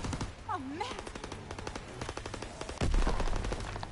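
A light machine gun firing in a World War II video game, heard as a rapid string of evenly spaced shots at moderate volume with a louder burst near the end, while people talk over it.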